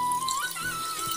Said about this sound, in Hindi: मैं ना इसमें 1 कटोरी पानी डाल रही हूँ।